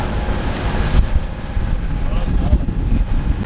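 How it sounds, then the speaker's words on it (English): Wind buffets the microphone on a motoring sailboat in a constant low roar, gusting unevenly, with the wash of water and the boat's motor droning underneath. "It does feel pretty windy actually right now"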